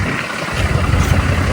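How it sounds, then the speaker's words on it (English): A Honda Civic with an exhaust leak idles close by in cold, windy outdoor conditions, giving a steady low rumble mixed with rushing wind noise. "This is the Civic I just showed you, or I'm gonna show you. So it has some exhaust leak."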